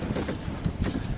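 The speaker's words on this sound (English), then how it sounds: "Ooh, wind. I don't want wind." Outdoor wind rumbles against the microphone in steady low buffeting gusts during an oil change on a 5.7L Hemi V8, with no speech.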